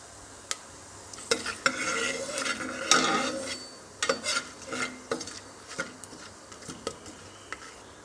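Fennel and whole garam masala spices fry in oil in a pressure cooker with a gentle sizzle, while a spoon scrapes and taps against the pot in irregular bursts close by.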